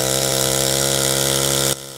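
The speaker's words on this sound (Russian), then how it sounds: "Основной рабочий инструмент – это пила." A saw, the main work tool at a workshop making New Year ice figures, runs with a steady, loud motor drone that holds evenly before abruptly cutting off near the end.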